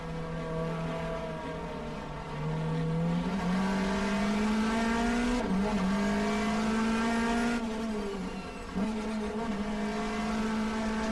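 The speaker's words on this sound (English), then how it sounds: "Down to 2nd gear." A race car engine in the 1994 GTR2 Australian Manufacturers Championship at Phillip Island screams loudly and steadily, its pitch climbing and then dipping sharply twice as the driver shifts down through the gears to second.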